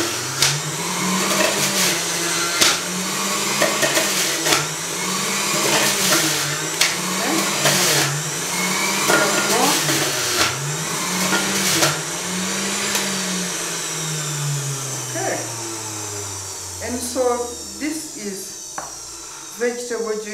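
A juicer's motor whirs loudly and steadily with a rhythmic pulsing as it presses carrot, cucumber and an apple, then winds down near the end, with a voice talking over it.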